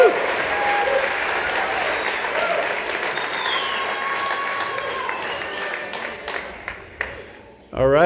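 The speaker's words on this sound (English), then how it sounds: "let's give him a big, warm round of applause" An audience at a mountain-community talk gives a big, warm round of applause, sustained close clapping that fades out near the end as a voice starts speaking.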